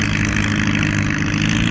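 A straight-piped Ford tractor pulling two plow bottoms through a field at a plow day runs with a steady, loud, throaty exhaust rumble, constant and close throughout.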